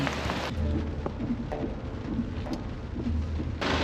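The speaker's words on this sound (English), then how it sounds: "it is pouring and we are getting soaked" Heavy rain pours down in the Judean desert, a dense, steady hiss of drops hitting the ground, close and loud throughout with a few sharper splashes and no voices.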